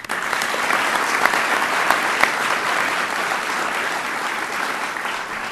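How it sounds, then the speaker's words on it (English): A big round of applause from the awards ceremony audience for the soccer dream team at a spring sports awards event, dense continuous clapping throughout with a few sharper claps standing out. "We need one more big round of applause for the soccer dream team this year"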